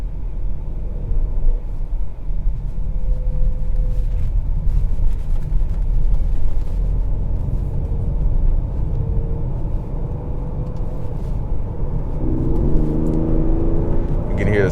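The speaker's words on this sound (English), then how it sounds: "You can hear the sound, the engine noise gets a little bit louder" Steady engine rumble and road noise inside a 2022 Ford Explorer ST while driving, continuous and fairly loud, rising slightly toward the end with a brief higher whir.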